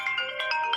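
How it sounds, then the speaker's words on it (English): A phone ringtone plays as a steady, faint electronic melody of sustained tones with soft pulsing notes, heard alone and fairly close. "I am so sorry about that phone."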